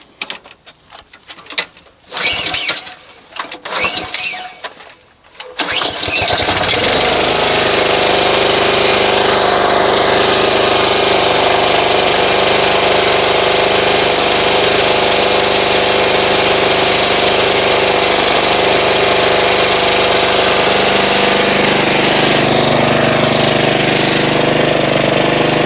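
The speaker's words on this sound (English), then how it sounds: "go ahead and test start the engine." A Honda HRX217HYA walk-behind lawn mower engine cranks with a few pulls, then catches and settles into a loud, steady idle that runs on without a break.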